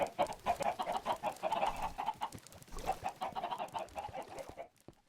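Chickens cluck repeatedly inside a Minecraft farm, a busy overlapping flock of close, lively clucks in uneven bursts that fade out abruptly at the very end.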